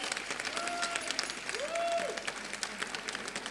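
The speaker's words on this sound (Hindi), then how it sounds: "जोरदार तालियों से स्वागत" Applause at a theatre performance welcomes a stage director, heard as a steady patter of hand claps from an audience, fairly soft and distant, while a few faint tones drift over it.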